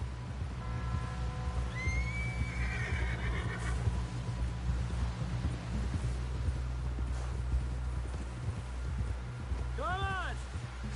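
In the Red Dead Redemption video game, a horse whinnies twice, a rising neigh early and a shorter one near the end, over a steady rumble of hooves and wind, with people talking.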